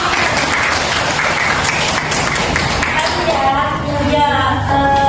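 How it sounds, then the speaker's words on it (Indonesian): Applause from a classroom of students during a maths lesson on circles, a dense burst of clapping that fills the whole stretch, with voices mixed in underneath. "beri tepuk tangan dulu buat"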